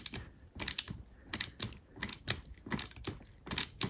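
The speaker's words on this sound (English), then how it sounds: "we are using the 7/16 socket and ratchet" A 7/16 socket and ratchet work on rusty luggage wheel bolts, giving repeated, close clicking bursts in an uneven rhythm with short pauses between strokes.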